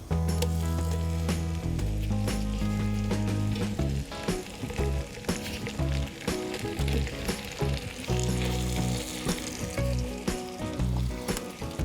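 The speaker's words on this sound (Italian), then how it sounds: "Sciolto il burro aggiungerò la carne." Meat sizzling in melted butter inside a Petromax FT9 cast-iron pot, a loud continuous crackle and hiss with occasional stirring clatter, under a steady musical hum.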